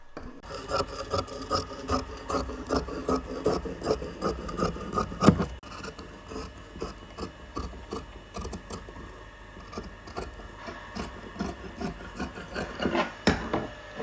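Fabric for a coat set is cut along a marked neckline, giving a steady rasping, rubbing rhythm of blade strokes that runs close and continuous for the whole stretch, with a few louder snips near the middle and end.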